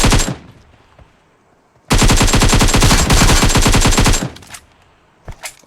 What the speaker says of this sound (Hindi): तो भाई साहब यहाँ पे उसके टीममेट साथ ही मेरे पे फायरिंग कर लेते हैं